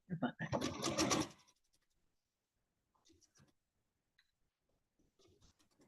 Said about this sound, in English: Right now what I'm doing is just chain sewing.